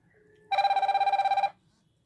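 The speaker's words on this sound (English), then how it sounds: "let's try to call this number again. And we'll try to answer it here" A WS-X9 Ultra smartwatch rings for an incoming Bluetooth call with one bright, buzzing electronic burst lasting about a second, then stops, leaving near silence.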